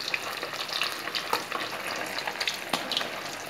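Seer fish (vanjaram) frying in a pan, a dense continuous hiss of bubbling oil with frequent small pops and crackles, close and fairly loud with no talking.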